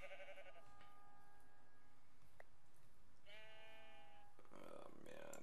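Sheep bleat in the Minecraft video game at night, a few moderate calls with clear harmonic tones spaced across the stretch, set among steady game ambience and background music.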